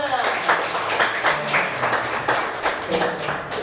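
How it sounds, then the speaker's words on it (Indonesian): A group claps their hands in a quick, fairly steady rhythm, a loud, close patter of overlapping claps filling the moment, with a voice talking over it. "Coba tepuk tangannya."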